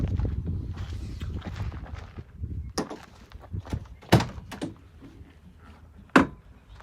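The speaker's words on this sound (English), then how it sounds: "Pop the back doors here." Metal rear doors of a camper trailer are handled and swung open, with a few sharp clunks and latch knocks spaced apart amid light rustling.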